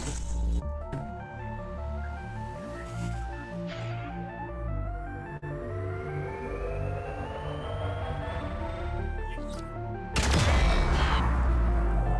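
Laser turrets fire in the video game Grounded: a steady throbbing hum with a rising electronic whine, then a sudden loud blast near the end, continuous and synthetic with no talk.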